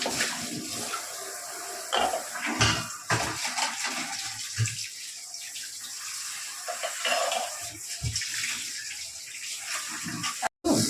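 Rice being washed by hand in water for a mutton biryani, a continuous close sloshing and swirling with running water and occasional knocks of the vessel, no voices.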